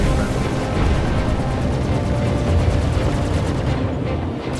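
A ship in Star Citizen takes heavy weapons fire on its shields: dense, rapid, booming impacts and blasts pound on without a break, loud and close, with no voice over them.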